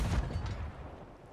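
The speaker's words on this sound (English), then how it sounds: "If I shoot a blunder bomb, I'm not going to move the cannon, I'm just going to wait for high tide." A blunder bomb fired from a ship's cannon in Sea of Thieves, a single booming blast that hits hard at the start and then fades into a low rumbling decay.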